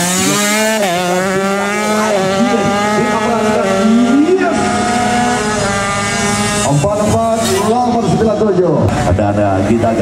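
A two-stroke 130cc underbone racing motorcycle at a road race championship revs hard with a high, rising buzzing whine and sweeping pitch changes, loud and continuous, under an excited race commentator talking throughout.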